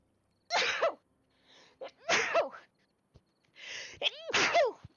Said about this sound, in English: Oh my god, I'm going to sneeze.